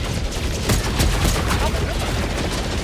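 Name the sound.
gunfire shots from the video game Helldivers 2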